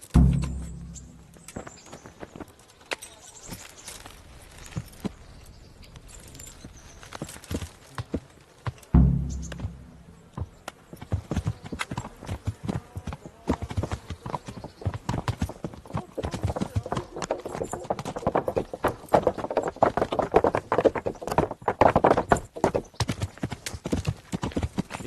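Horse hooves clip-clop steadily in the Kingdom Come Deliverance video game, a continuous walking rhythm of hoof falls on a path, close and fairly loud, with occasional thuds and soft background ambience.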